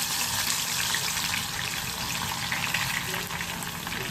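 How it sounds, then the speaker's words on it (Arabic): Onions frying in a pan for Egyptian koshari give a steady, close sizzling crackle that runs without break, with a little stirring. "يتحمر معايا كده اهو"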